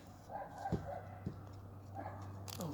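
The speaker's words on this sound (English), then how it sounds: "Oh, whose dog is that?" A dog barks outdoors at a distance, three or four faint separate barks over a steady low hum, with soft bird calls in the background.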